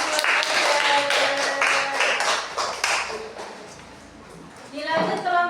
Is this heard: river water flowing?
no